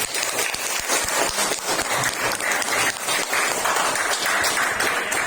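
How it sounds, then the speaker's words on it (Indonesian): Students in a high school classroom break into applause, a dense run of clapping from many hands that stays fairly loud and steady for several seconds without speech. "Kasih aplaus untuk Cantika"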